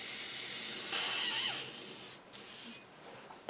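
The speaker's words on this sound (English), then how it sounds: "I just spray it all in one, spray the grey and then spray the green straight over the top" An airbrush sprays grey paint onto an Eduard Spitfire scale model: a steady airy hiss that softens partway through, then stops twice, broken into short bursts near the end.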